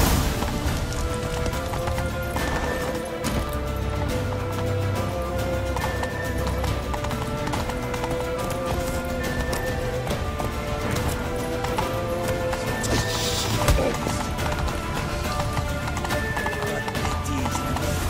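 Galloping hooves pound continuously in the video game The Witcher 3: Wild Hunt, under a loud, dense mix of music and action effects, with shouting voices breaking in now and then.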